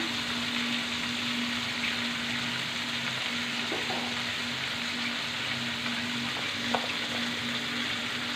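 Ginger paste fries in a pan while being stirred: a constant hissing sizzle under a steady hum, with a few soft scraping touches of the spoon.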